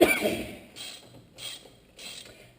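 Three short ratcheting bursts from a hand ratchet wrench loosening a brake caliper outdoors on a gravel driveway, evenly spaced about every half second, close and clear.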